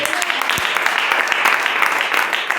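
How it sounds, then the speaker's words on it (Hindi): Audience applause at a Hindi-language church sermon, a dense, steady wash of many hands clapping for the full stretch, loud and close, with no talk over it. "क्या आप खुद के लिए ताली दे सकते हैं।"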